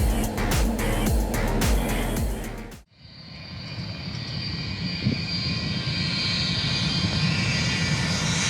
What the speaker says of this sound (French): voici à quoi ressemble le ravitaillement en vol à partir d'un Boeing Stratotanker